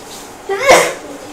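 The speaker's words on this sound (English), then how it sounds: "You sneeze." A single short, sharp sneeze, close and loud, in an otherwise quiet moment.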